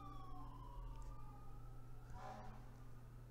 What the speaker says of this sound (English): And there are sirens in the background.